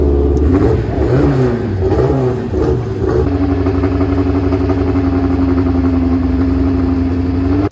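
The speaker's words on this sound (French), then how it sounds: "ces monoplaces prêtes à partir pour la première course de la journée" Historic Formula 1 single-seaters on the grid at Circuit Paul Ricard rev hard in a few loud, rising bursts, then settle into a strong steady drone, all heard close by.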